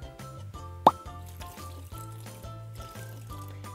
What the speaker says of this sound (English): Okay, I'm adding water. That's gonna be about half a cup of water.